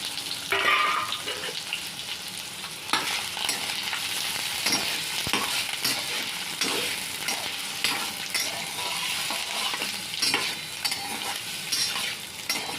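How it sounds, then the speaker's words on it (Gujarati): Onion, garlic and chillies sauté in hot oil in a pan, crackling and sizzling up close while a spoon stirs and scrapes at irregular intervals. "એમાં ડુંગળી ને લસણ ને મરચાં થોડાક સાંતળી લઈએ"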